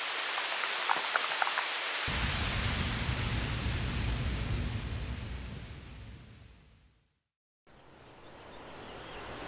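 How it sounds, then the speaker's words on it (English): Hail pelting down outdoors beside a mountain river, a dense, loud, steady hiss of hard impacts that cuts out almost completely for a moment before resuming. "I'm currently being pelted by hail"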